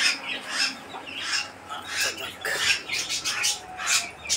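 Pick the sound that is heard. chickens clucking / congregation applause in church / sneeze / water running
chickens clucking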